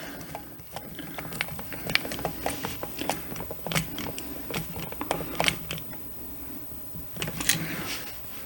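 A screw is tightened down on a double light switch, giving a close series of small irregular clicks and ratcheting ticks from the driver that stay fairly faint and steady.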